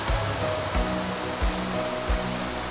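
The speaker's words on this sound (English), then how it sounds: "Wind's picking up just a little bit. Sounds like the ocean." Wind rushes through autumn trees at a campsite in the early evening, a steady, fairly loud roar that rises and falls in gentle waves like ocean surf, with no voices.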